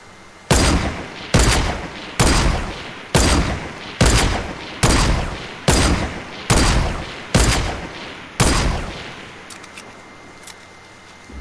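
Video game gunfire rings out as about nine heavy, evenly spaced shots roughly one second apart, each loud and booming with a decaying tail, then fading to quieter background.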